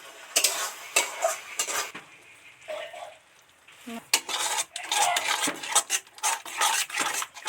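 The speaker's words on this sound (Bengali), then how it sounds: "যতক্ষণ না এই মশলা থেকে তেল ছেড়ে আসবে ততক্ষণ একটু আস্তে আস্তে নাড়তে থাকবো" A spoon slowly stirs spice masala frying in oil in a metal pan while fish curry is cooked, giving soft intermittent scraping and clinking strokes, close and fairly quiet, with no talk.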